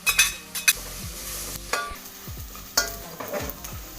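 Crushed ginger and garlic fry in a pan for papaya pickle, with close stirring scrapes and bursts of sizzling that rise and fade in uneven pulses.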